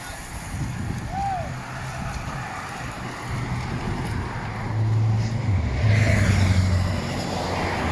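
A vehicle engine drones steadily in the open air at the tail of a cycling race convoy, with wind buffeting the microphone and a low hum swelling louder partway through.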